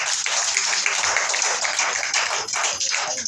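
Congregation in a church service clapping steadily together, a dense, continuous wash of many hands with a fast, even rhythm, close and fairly loud throughout.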